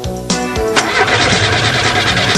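A car engine cranks briefly with a couple of stuttering starter turns, then catches and settles into a loud, steady running rumble close by.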